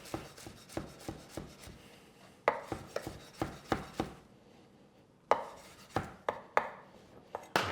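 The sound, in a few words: chopping coriander leaves and stalks with a knife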